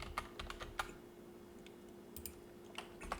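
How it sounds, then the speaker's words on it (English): Light typing on a computer keyboard while entering a polar equation into a graphing calculator, soft scattered keystrokes in short bursts, quiet and alone over a faint steady hum. "The moment you type like r equals 1 plus c"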